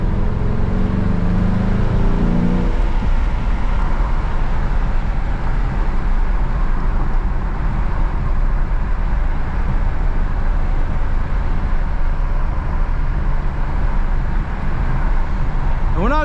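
A 2009 Dodge Challenger SRT8 with a six-speed manual pulls hard at night, its engine note droning steadily from inside the cabin, with a brief shift early on.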